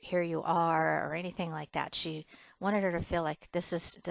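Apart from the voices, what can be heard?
No everyday noise stands out behind the speech.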